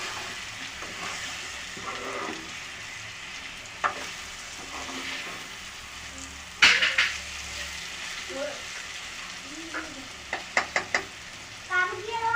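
Egg and capsicum fry sizzles in a pan while being stirred, a soft continuous crackle broken by scattered spoon scrapes and clinks, fairly quiet throughout.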